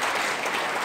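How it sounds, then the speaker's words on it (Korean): Warm, sustained applause from an audience welcoming a professor to a debate forum marking Park Chung-hee's 100th birthday, a dense steady wash of many hands clapping at even loudness throughout. "좀 박수를 뜨겁게 다시 한번 환영합니다"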